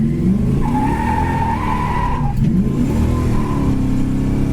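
A maroon 1969 Pontiac GTO accelerates hard, its V8 roaring loud and close with a rising engine note, a brief dip as it shifts, then pulling strongly again, with tire noise underneath.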